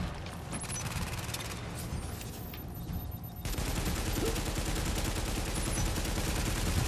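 Sustained automatic turret gunfire in The Division, a dense rattling fusillade that runs throughout and grows louder partway through, with no speech over it.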